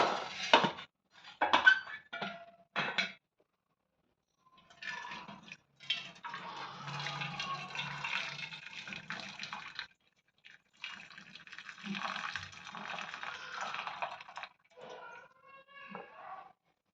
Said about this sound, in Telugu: ఈ వాటర్ని అంతా ఇలా వంచేసుకోవాలి